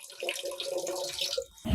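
About a litre of fresh water is poured into a pot with half a kilo of jaggery for sweet rice pudding: a steady, close splashing stream that runs unbroken for nearly two seconds and stops briefly at the end.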